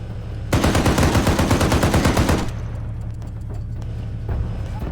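Rapid automatic gunfire from the Arma 3 military game, a loud sustained burst of dense, evenly spaced shots for about two seconds, followed by quieter scattered distant shots and ambient rumble.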